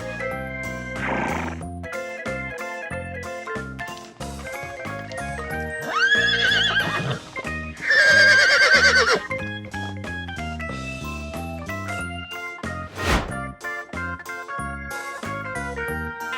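Loud horse neighs and whinnies ring out over an upbeat musical backing, with a couple of sharp calls standing out near the middle.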